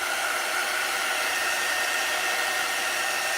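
A hair dryer runs close and loud at a constant pitch while drying ink on a t-shirt, an unbroken airy roar with no talking.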